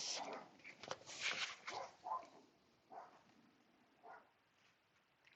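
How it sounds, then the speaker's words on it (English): A dog barks a few times at a distance, faint and intermittent, with quiet gaps between the yelps. "Can you hear the dog barking?"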